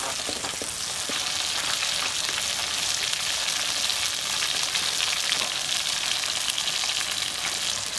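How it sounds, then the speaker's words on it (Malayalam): Onions sautéing in hot oil for kappa and chicken, a close, steady, bright sizzle with fine crackling and faint stirring, holding at a constant level throughout without any talk. "ഉള്ളി നന്നായിട്ട് എണ്ണയ്ക്കകത്ത് കിടക്കുക. നന്നായിട്ട് വഴന്ന് വരട്ടെ."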